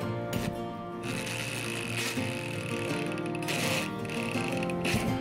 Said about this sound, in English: go tighten those screws down